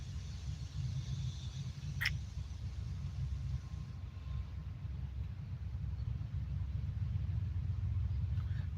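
A steady low rumble of a distant CSX or Norfolk Southern freight train rolls on at Beaver Falls, Pennsylvania, constant and heavy underneath, with one brief sharp tick partway through.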